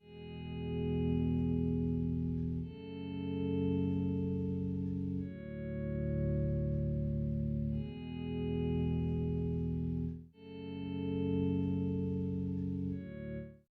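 Repeated guitar chords swell in slowly with no sharp pluck, each held for a couple of seconds before the next fades in, clean and without effects.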